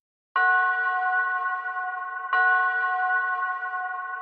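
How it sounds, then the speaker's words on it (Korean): A clear, sustained bell tone rings twice, each stroke starting sharply and holding a steady ringing hum that carries on under the next, with silence before and no voices. "멀리서 3번의 종소리가 들려왔습니다. 맑고 깊고 엄숙한 소리였습니다."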